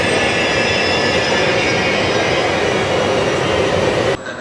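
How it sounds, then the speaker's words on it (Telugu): An Italo train arrives at Santa Maria Novella station in Florence, a loud steady rumbling roar with a high metallic hiss that carries on throughout, cutting off abruptly at the end, with no talk. "చూడండి, రానే వచ్చేసింది మనం వెళ్ళాల్సిన ట్రైన్"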